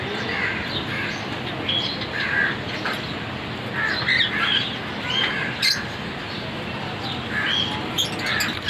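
Albino and lutino ringneck parakeets call in an aviary, repeated shrill squawks and chirps scattered over a constant hissing background, moderately loud and fairly close.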